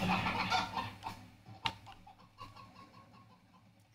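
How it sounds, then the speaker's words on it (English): Chickens cluck in a busy scene, scattered short clucks at moderate distance mixed with clattering and other noise, with no voices over them. "How in the world are we gonna even keep these chickens over here?"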